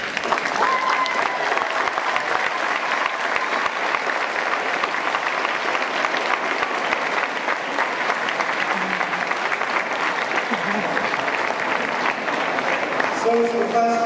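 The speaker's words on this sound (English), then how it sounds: "give them a round of applause at this time" Graduates of Rockville High School's class of 2007 applaud their family members at a graduation ceremony, a dense, steady crowd applause sustained throughout with cheering and voices mixed in.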